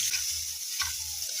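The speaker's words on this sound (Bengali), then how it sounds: "আর এটা এখন বেগুন ভাজা হচ্ছে" Eggplant slices fry in a hot pan with a bright, steady sizzle close up, along with a low rumble and an occasional stirring scrape.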